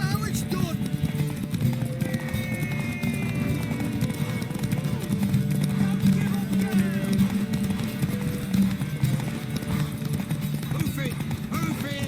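Hooves pound in a fast, continuous gallop under a steady rumble in The Witcher 3 video game, with a voice speaking over the running horse.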